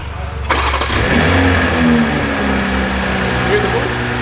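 A tuned BMW M340i engine cranks and catches, then settles into a loud, steady idle close by, with people talking over it.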